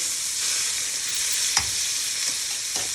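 Freshly flipped steaks sear in a pan, making a loud, even, unbroken sizzle with a couple of faint utensil taps.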